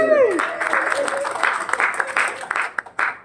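Applause from a church congregation during a Sunday service begins after a brief voice and thins into scattered, uneven claps toward the end, with some talk mixed in.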